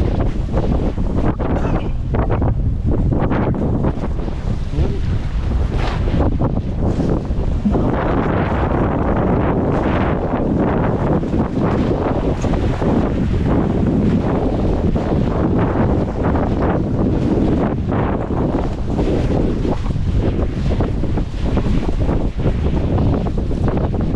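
Strong wind buffeting the microphone outdoors, a continuous loud rumbling roar with gusty surges and no speech.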